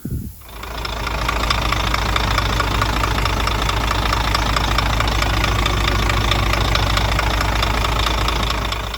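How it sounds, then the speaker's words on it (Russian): A Scania R400 truck's DC12 diesel engine runs steadily at high revs after a rebuild, a loud continuous droning roar with a knocking edge, close by and uninterrupted after a brief dip at the start. "поднимает обороты, поэтому обороты такие большие"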